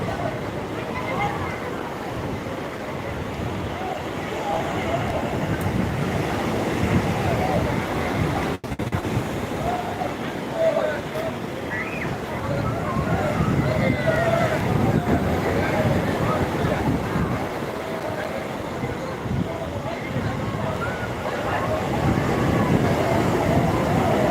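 Sea surf rolling in at Old Digha beach at midday, with steady wind buffeting the microphone and a crowd of voices murmuring in the background throughout.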